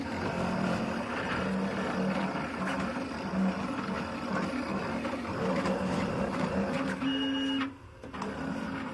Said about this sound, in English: Sometimes I swear it's a true joy watching these machines cut.